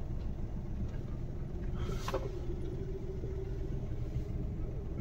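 Car engine rumbling at a low, steady idle while the car reverses during a driving lesson, a close continuous drone with a brief higher whine partway through.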